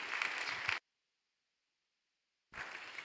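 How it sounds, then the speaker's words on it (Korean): Church congregation at a Sunday young-adults worship service gives congratulatory applause: a short burst of clapping, a sudden gap of silence, then the clapping resumes at a moderate, fairly distant level. "우리 다시 한번 축하의 박수를 드리겠습니다."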